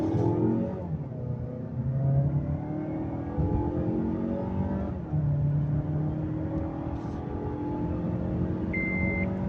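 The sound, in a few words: car accelerating on test drive after fuel injector replacement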